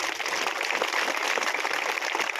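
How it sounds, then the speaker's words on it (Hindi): A crowd applauds at a political rally in Nagrota, with dense, steady clapping that stays even throughout. "ये तालियां बजा दे, इन्हों की तालियां की गड़गड़ाहट सबसे ज्यादा होनी चाहिए बुजुर्ग वास्ते"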